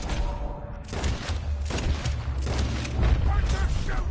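Gunfire in the game Red Dead Redemption 2, a dense, continuous run of shots and booms, with voices talking over the shooting.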